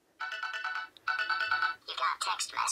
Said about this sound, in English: whenever you get a text message, that's the sound that'll play